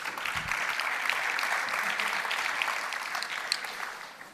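A conference audience at a data journalism talk applauds to welcome the speaker, producing a dense, even wash of clapping that holds steady and tapers off near the end.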